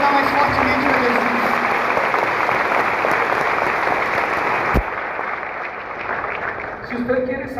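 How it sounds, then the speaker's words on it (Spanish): Strong audience applause at a religious lecture, a thick continuous wall of clapping that holds steady, then drops to a thinner patter after a sharp knock, with a voice starting up near the end. "Esse aplauso você vai dar mais fortemente para Jesus."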